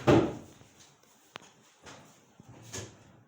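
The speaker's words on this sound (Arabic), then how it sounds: "وهاي يفتح جرارة مال الزاوية شوي جوا" A corner drawer in a wooden wardrobe from an Iraqi carpenter's bedroom furniture showroom slides open with a brief rumbling scrape, followed by a few light knocks and clicks in a quiet room.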